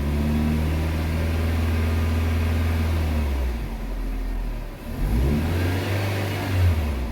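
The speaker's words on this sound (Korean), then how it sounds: "악셀을 밟아서 엔진 회전수를 3000 정도로 올려봅니다." A Chevrolet Spark M300 engine idles, then revs to about 3000 rpm in a higher steady whine, drops back briefly and climbs again, close by with no talking.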